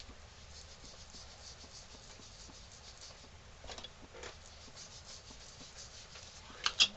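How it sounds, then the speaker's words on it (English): A coloring tool rubs steadily over paper, filling it with color for a wax paper resist piece; soft, close, continuous scratchy strokes, quiet throughout, with a few brief louder scrapes near the end. "And you just fill your whole paper with color."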